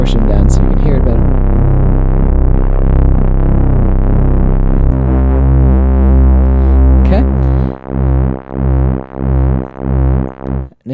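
A Moog Grandmother synthesizer pulse wave under pulse width modulation, a loud buzzy sustained tone whose timbre shifts and then pulses rhythmically in swelling, fading throbs as the width sweeps toward silence.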